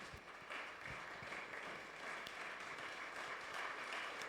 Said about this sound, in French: Give a hand to Jesus.